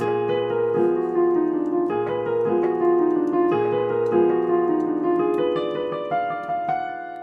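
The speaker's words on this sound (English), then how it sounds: "get ready for another diminished chord" A tense, dissonant diminished chord repeats in a rhythmic piano-like pattern, steady and moderately loud, fading toward the end.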